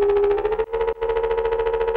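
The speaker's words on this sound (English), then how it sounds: "I've used Convolution Reverb Pro here in Ableton, and it has this incredibly short impulse response" A synth tone run through Ableton's Convolution Reverb Pro at 100% wet with a very short impulse response, giving a steady buzzy, pulsing drone with a brief gap near the middle and no voices.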